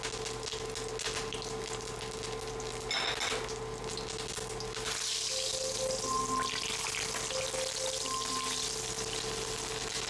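A homemade all-American corn dog hisses as it fries in very hot oil, a steady close sizzle with a brief louder burst of bubbling partway through and a faint electronic beep pattern underneath.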